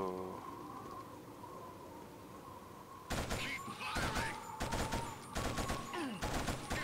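Gunfire in the video game Killzone: after a quiet stretch with a low hum, bursts of loud rapid shots erupt and continue in clustered volleys to the end.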